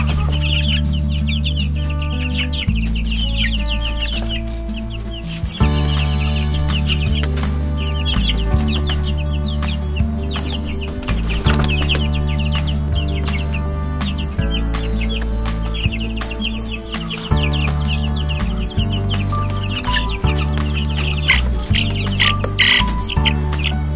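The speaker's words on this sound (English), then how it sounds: "this is where Elvis's flock lives, and also our 3-week-old chicks" A flock of chickens with three-week-old chicks clucks and chirps continuously in a winter chicken coop, a steady, busy mix of hen calls and high peeping with no voices.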